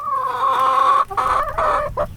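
Homestead chickens cluck close by in a short run of throaty, warbling calls, a sustained cluck broken by a few shorter bursts.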